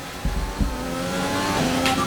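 An F1 car in the F1 2020 game, its engine droning steadily and building as it accelerates, with a couple of brief low thumps early on and no talk.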